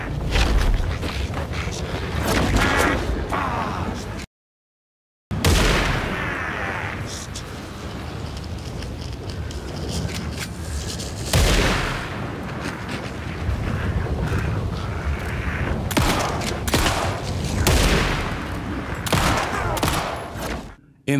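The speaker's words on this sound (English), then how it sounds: "Thornton will be shooting at Saga from any of these 4 high ground locations" Boss fight in the video game Alan Wake 2 with sustained gunfire: dense, loud rattling shots and booming blasts run almost continuously, with a brief gap of silence and a voice talking over them.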